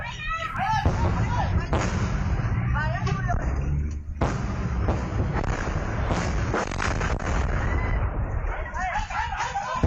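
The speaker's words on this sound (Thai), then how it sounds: "เห็น แรงระเบิดแล้วก็เสียงระเบิดค่ะจนชาวบ้านต้องวิ่งหนี" Loud, heavy blasts from bombing in the Thailand–Cambodia border conflict near Ubon boom one after another over a constant rumble, with voices of fleeing villagers heard between the explosions.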